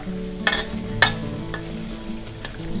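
Pork fat rendering into lard in a pan, a steady low bubbling sizzle with a few sharp spatters and scrapes of stirring, close and moderately loud with no talking.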